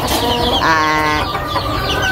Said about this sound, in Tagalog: Yung ating sisiw na inalagaan, yung galing doon sa incubator.